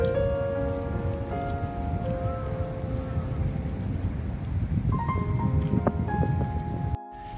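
Rain falls steadily at a mountain campsite with apple orchards, a close, continuous patter on surfaces with faint wind and a few soft tones drifting behind; no one speaks.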